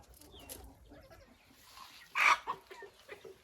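Chickens and turkeys kept in a farm enclosure give soft clucks and murmurs at low level, rising to a louder burst of squawking near the end.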